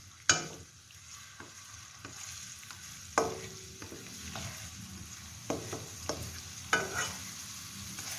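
Ginger garlic paste sizzles steadily as it is sautéed in a pan, with a spoon scraping and clacking against the pan every second or so, fairly close, with no talking.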